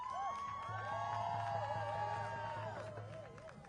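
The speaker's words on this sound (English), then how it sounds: "What a crowd!" A large protest crowd outside the Democratic National Convention cheers and whoops, with rising and falling shouts and whistles swelling loudly for several seconds.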